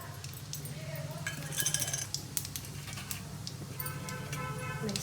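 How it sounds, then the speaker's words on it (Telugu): Tempering seeds dropped into hot oil in a pan while frying okra give steady crackling and small ticking pops over a low hum, with brief clinks scattered through and louder bursts now and then. "ఆయిల్ వేడెక్కింది, పోపు గింజలు వేస్తున్నాను"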